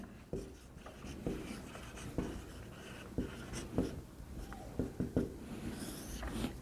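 Chalk or marker strokes on a classroom board as a heading is written during a physics lesson, a run of short scratchy strokes and taps at an uneven pace, close and clear, with no voice.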